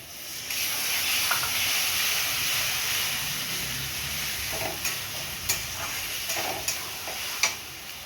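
Potatoes and a splash of water added to fried spices for a catla fish head curry set off a loud, hissing sizzle with rising steam, followed by a few sharp spoon scrapes against the pan.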